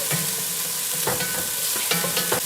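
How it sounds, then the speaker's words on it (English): Chopped onion frying in a pan makes a close, steady sizzle, with a few soft scraping stirs breaking through the constant hiss at irregular moments. "Getting a little bit of translucency to the onion."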